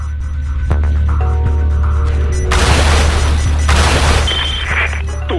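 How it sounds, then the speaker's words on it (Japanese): A C4 charge detonates inside a tower in The 3rd Birthday, a deep booming blast with a rumbling, crackling tail that swells midway and then decays over a steady low hum and game music. "これよりタワー内に設置した C4 を起爆する。"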